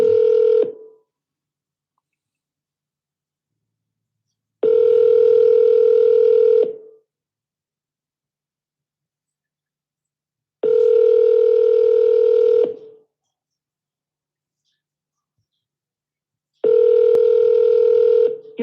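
A telephone call rings out on the line: a steady electronic ringback tone sounds for about two seconds, then goes silent for roughly four, repeating three more times, clear and close with no voices.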